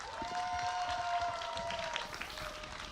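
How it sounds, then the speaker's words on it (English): An esports arena audience claps and cheers as a broad, crackling wash of applause under a faint crowd hum. "Applause for Envy"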